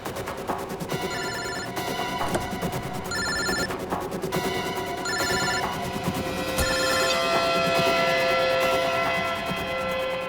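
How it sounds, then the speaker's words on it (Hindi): A mobile phone ringtone repeats in short electronic bursts, muffled inside a car, over a steady background hum, with no talking. "सर फोन तो गाड़ी में बच रहा है।"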